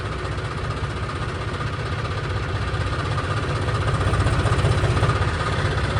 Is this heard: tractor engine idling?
yes